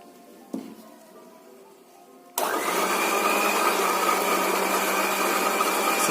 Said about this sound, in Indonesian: kemudian putih telur dimasukkan ke dalam wadah untuk diaduk menggunakan mixer